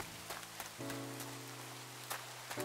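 Steady rain hissing in Minecraft, a soft even patter with a few brighter drip ticks over a low sustained musical tone, with no talking.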